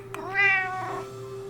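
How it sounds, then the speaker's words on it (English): A cat gives one clear, drawn-out meow, rising then falling, close and fairly quiet over a faint steady background hum. "Cat meows like this."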